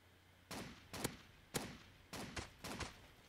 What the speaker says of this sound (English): Oh, I'm being shot from somewhere.